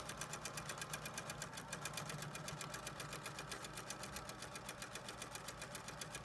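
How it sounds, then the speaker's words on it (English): A sewing machine stitching a ribbon double welt pocket runs steadily up close, its rapid, even mechanical chugging continuous and unbroken throughout. "The machine just chugging away."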